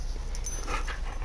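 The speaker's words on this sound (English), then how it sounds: "My pup is in my face," A pet puppy pants and softly whimpers up close, a steady breathy sound with faint whines over quiet room noise.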